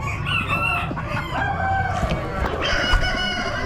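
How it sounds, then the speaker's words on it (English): Chickens at an Amish animal auction crow and cluck in a busy, noisy barn, with several overlapping calls and a steady crowd murmur underneath; faint voices are present. "Looks like just a pair of chickens."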